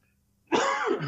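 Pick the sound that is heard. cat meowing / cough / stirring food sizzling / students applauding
cough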